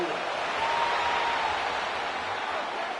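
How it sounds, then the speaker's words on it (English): A Madden 26 stadium crowd at an AFC Championship game between the Broncos and Patriots roars steadily as a replay is shown, a dense continuous wash of shouting and cheering with no break. "Plenty of shouts from this crowd as they watch the replay."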